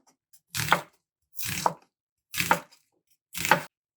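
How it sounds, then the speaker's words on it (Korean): Four crisp knife cuts through an onion, sliced lengthwise on a cutting board for a Korean stir-fried squid dish, evenly spaced about once a second, close and clear with no talking. "양파는 길이로 길게 썰어줍니다."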